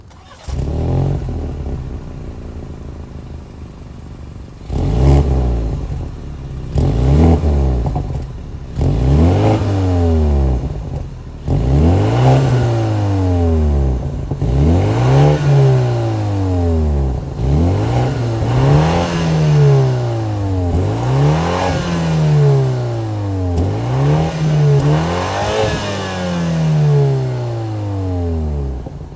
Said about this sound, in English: that was the sound of the 2-liter twin-scroll turbo 4-cylinder sold by BMW